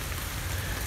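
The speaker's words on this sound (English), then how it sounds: "You may hear a little bit of rain falling." Steady soaking rain falls outside a shed, an even, continuous patter that holds at a constant moderate level throughout the short stretch, with no voices over it.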